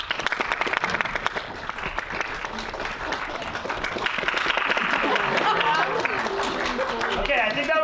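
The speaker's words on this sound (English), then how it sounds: "clap really hard if you don't want them in the next scene." Loud applause and clapping from a comedy improv audience, building steadily and sustained throughout, with crowd voices mixed in.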